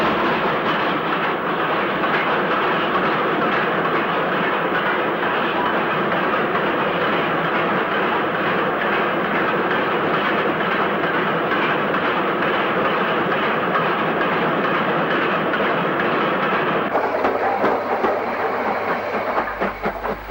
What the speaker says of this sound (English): 48477 braves the elements tender first with the freight.